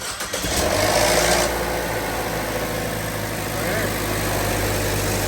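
A 2015 Chevy Trax turbo engine idles steadily with a low, even rumble after a brief louder burst at the start, following exhaust manifold gasket and flex pipe repair; no voices.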